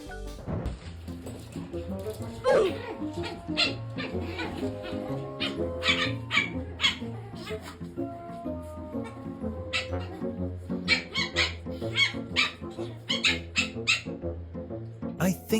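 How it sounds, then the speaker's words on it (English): A dog grumbles, whines and yelps in a long, restless run of complaining vocalizations, close and fairly quiet, the sounds rising and falling in quick bursts. "The dog complains as if he's the homeowner, annoyed when someone doesn't do things his way."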